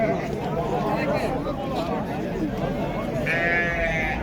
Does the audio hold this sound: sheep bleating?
yes